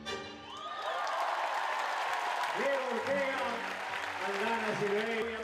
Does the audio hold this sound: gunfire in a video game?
no